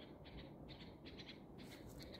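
Many birds call faintly in a rose garden, several short chirping bursts repeating at irregular intervals over a low outdoor background hum.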